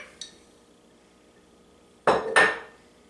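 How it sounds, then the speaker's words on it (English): Cookie dough ingredients are mixed in a bowl: a faint clink, then two sharp, close scraping knocks of a utensil against the bowl near the end, over a quiet background. "And mix, mix, mix."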